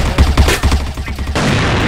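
Rapid bursts of video game gunfire, a cluster of loud overlapping shots followed by a steadier rumbling tail, all within a couple of seconds.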